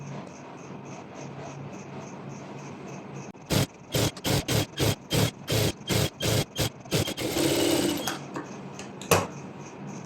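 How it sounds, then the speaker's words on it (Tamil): A sewing machine stitches a double stitch on fabric for a circular maxi dress, heard as a rapid series of short mechanical bursts. A longer continuous run and a final burst follow, with no talk in between. "இப்போது இங்கே டபுள் ஸ்டிச் கொடுத்துக்கலாம்"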